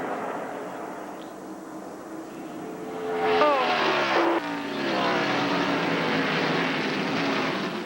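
Race cars roar past at the 1996 General Tire Hoosier 500k, a broad engine drone with a rising and falling pass-by in the middle, steady and fairly loud throughout with no talk.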